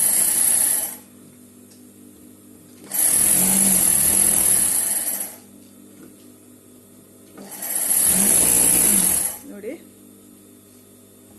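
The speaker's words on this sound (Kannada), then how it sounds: "ಇದು ನಂದು ಪವರ್ ಮಷೀನ್ ಇದೆ ಫ್ರೆಂಡ್ಸ್" An electric power sewing machine stitching a blouse lining runs in two loud, sustained whirring bursts separated by pauses, heard up close, and a voice speaks briefly.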